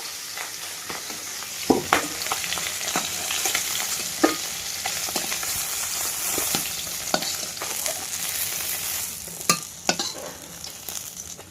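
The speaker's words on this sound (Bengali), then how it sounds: "আস্তে আস্তে সব মাছগুলো ভেজে নাও" Pieces of catla fish fry in hot oil in a pan with a continuous loud sizzle, punctuated by sharp clicks of a spatula turning them.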